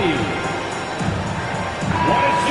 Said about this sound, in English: Nice round of applause for your 76ers